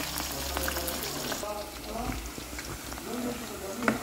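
Green banana slices fry in hot oil in a home kitchen, giving a steady crackling sizzle with scattered pops. A voice talks over it.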